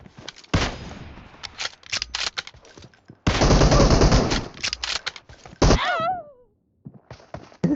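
Gunfire from a Kar98 bolt-action rifle and other weapons in PUBG Mobile: loud, close bursts of rapid shots, with a ricocheting whine and short silent gaps between the bursts.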